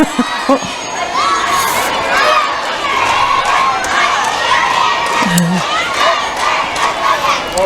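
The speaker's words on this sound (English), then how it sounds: "And the Little Indians have their own cheer squad." A children's cheer squad, the Little Indians, shouts and cheers at a town parade, a loud continuous crowd of young voices calling out together outdoors with bursts of excited yelling.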